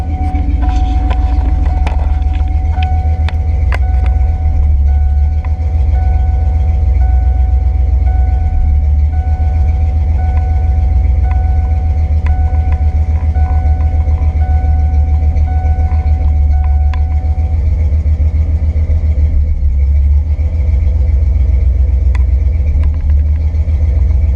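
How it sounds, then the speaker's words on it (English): A car engine idles steadily with a loud, constant low rumble, and faint ticking and clicking noises sit on top of it. "It's idling pretty steady, but it still has that dip."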